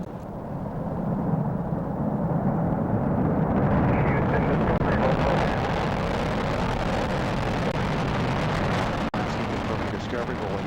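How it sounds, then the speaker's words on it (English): Space Shuttle Discovery lifting off at night on the STS-116 mission, a broad, sustained rocket roar that swells and rumbles on without break, with a commentator talking over it. "We have booster ignition and liftoff of the Space Shuttle Discovery, lighting up the nighttime sky"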